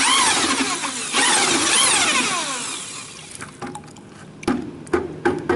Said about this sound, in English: I'm going to use the drill to mix the glaze.